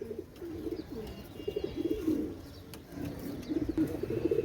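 Pigeons coo in a low, throaty, repeated warble, several birds overlapping nearby in rolling bursts, with faint higher chirps in the background and no speech.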